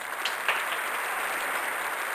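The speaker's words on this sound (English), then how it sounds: "everyone give it a big round of applause for Roshi Bass" A crowd applauds Roshi Bass at a virtual underground music showcase: a continuous, even wash of many hands clapping, with no voices.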